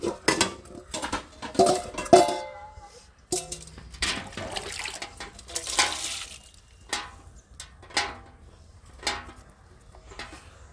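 Pots and cutlery being washed at a kitchen sink during morning chores, with close clinks, clatters and scraping alongside intermittent bursts of running tap water.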